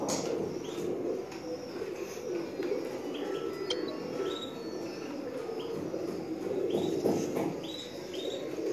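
A khaki pigeon coos among other birds at a pigeon gathering, soft low calls sitting under steady background noise with scattered faint chirps and tweets from other birds.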